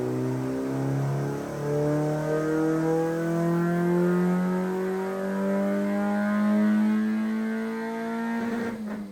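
A Honda D16 engine car revs on a dyno in a steady climbing pull whose pitch rises smoothly over several seconds, loud and close, then cuts off at the end.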